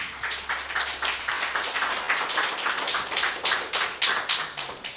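A church congregation claps together in quick, steady rhythm, a dense wall of hand claps sustained throughout with a faint low hum beneath.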